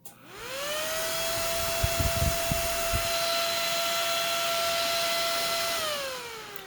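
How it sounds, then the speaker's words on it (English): A Delta 80 mm computer fan, 38 mm thick and rated around 80 cubic feet per minute, spins up into a loud, steady whine with a strong tonal hum, holds it, then winds down at the end. "This is 80 cubic feet a minute out of a fan that's 3 1/8 inches, or 80 millimeters, by 38 millimeters,"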